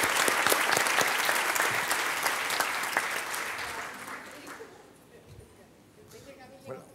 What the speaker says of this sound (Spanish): yo les pido un aplauso para esta excelente mesa de diálogo.